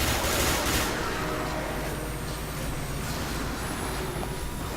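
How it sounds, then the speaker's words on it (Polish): A train passes in the video game Dark Sector, giving a loud, continuous rolling rumble with metallic rattling throughout and a brief burst of gunfire near the start. "Pociąg jedzie"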